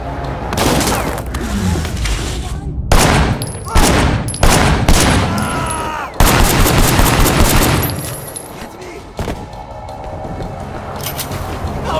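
Gunfire in Sleeping Dogs: loud, close bursts of rapid shots and single cracks in an action scene, with booming impacts and shattering debris between volleys.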